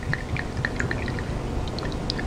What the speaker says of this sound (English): take the tomato basil marinara that we already have, pour that into a bowl